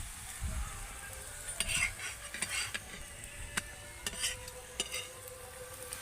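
A layered lachha paratha made from leftover rice frying in a pan, a quiet steady sizzle broken by several sharp scrapes and taps as it is turned, close with no talk.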